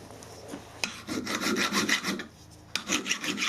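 A lathe parts off the end of a chrome steel bar, giving a close, rasping, scraping cut that surges in uneven waves, with a couple of sharp knocks and no speech.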